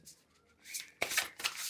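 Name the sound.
shuffling a matte-finish animal tarot card deck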